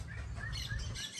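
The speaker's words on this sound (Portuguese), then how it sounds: "O legal aqui é os passarinhos, velho, a floresta." Small birds chirp in a forest, with quick bright tweets repeating over a soft, low background rumble.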